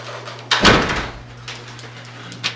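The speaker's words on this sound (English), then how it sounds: "Susan, I forgot to close the door behind you" A door shuts with a single thud in a quiet meeting room, followed by faint rustling and a soft knock near the end, with a steady hum underneath.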